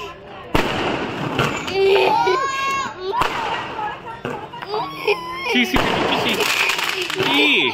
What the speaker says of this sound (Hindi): लोग बहुत ज्यादा पटाखे जला रहे थे